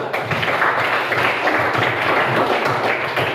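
Students clapping together during a school coding and artificial intelligence training session, a loud, continuous burst of applause filling the room for a few seconds.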